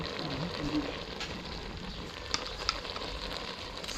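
Food is stir-fried in a pan in a home kitchen, with a steady close sizzle and crackle, scraping stirs and a couple of sharp clinks of utensil on metal, a voice briefly heard.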